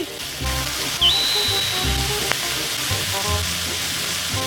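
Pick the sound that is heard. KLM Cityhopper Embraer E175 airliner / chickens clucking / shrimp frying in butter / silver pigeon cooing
shrimp frying in butter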